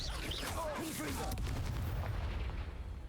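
A Confringo blasting spell in Hogwarts Legacy sets off a dull boom amid combat effects, a loud rumbling burst that fades over a few seconds.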